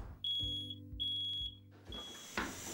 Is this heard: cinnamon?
no